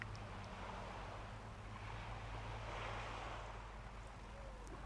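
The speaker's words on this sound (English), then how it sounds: "I think you can probably hear the lapping waves" Waves lapping on the shore at Minehead on the Somerset coast with the tide coming in, a soft continuous wash with low wind rumble, faint and distant.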